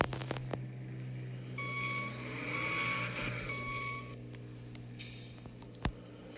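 Steady, evenly spaced reversing beeps from a rear loader garbage truck, ringing out over a low engine hum with a few clicks and knocks around them.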